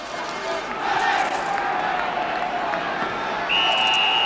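A football crowd at Crystal Palace murmurs and calls out before kick-off, a broad, steady roar of many voices with occasional shouts and whistles carrying from a distance.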